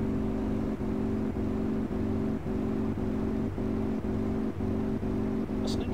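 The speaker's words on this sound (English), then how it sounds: "That's an interesting noise from the engine when you're trying to fly this thing inverted." A YAK-52 radial engine in the DCS World flight simulator drones steadily while flying inverted, its loud, even hum broken by regular rhythmic pulses, with no voices over it.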